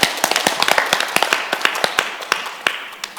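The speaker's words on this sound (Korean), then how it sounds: "한번 격려의 박수를 한번 해드릴까요?" A small Bible study group breaks into a short round of encouraging applause, with sharp, uneven hand claps rattling quickly and loudly for a few seconds in a room.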